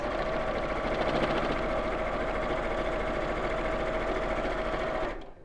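A sewing machine stitches down the middle of a fleece quilt piece, running in a steady, fast, even mechanical whir up close before stopping abruptly at the end.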